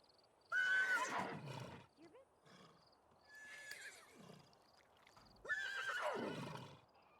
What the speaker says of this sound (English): They're already going to get off their horses.